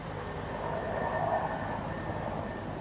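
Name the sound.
train passing in Farm Sim 19 video game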